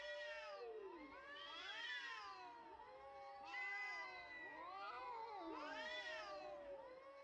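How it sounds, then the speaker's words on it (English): Several cats meowing and caterwauling in long, wavering, overlapping cries, clear and fairly close, with no talking. "Enjoy the cat sounds while I write this down."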